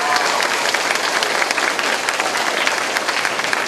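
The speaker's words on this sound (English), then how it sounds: "Would you give a big warm round of applause to Mr. Olmos, your outstanding music teacher" A school assembly audience at a district music week event bursts into loud, sustained applause, dense overlapping claps from a large crowd filling the room.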